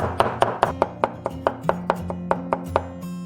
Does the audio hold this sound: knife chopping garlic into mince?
yes